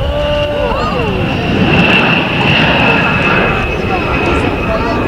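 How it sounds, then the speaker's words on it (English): A-10 jet with twin General Electric turbofan engines flying at an air show, a steady broad roar with a high whine, while an announcer talks over it. "the A-10's twin General Electric turbofan engines are smokeless and much quieter than other engines of comparable size"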